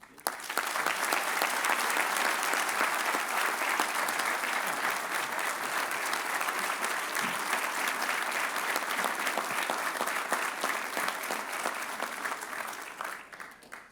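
An audience at Nichols College applauds in welcome of speaker Joseph P. Kennedy III, steady sustained clapping from a large crowd that holds for over ten seconds before tapering off.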